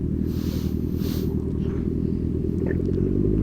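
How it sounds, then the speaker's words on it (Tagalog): A motorized tricycle speeding along a road, heard as a steady close engine rumble and putter throughout, with no talk over it. "padayan natin ng tricycle, mabilis siya eh."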